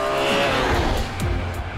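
BMW M3 E46 with a 3.2-liter inline six-cylinder making 343 horsepower and revving toward almost 8,000 rpm, its engine note loud and sustained with rising pitch sweeps.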